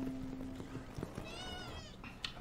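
A cat meowing indoors, one drawn-out rising and falling meow over a continuous background hum and game noise, moderately close.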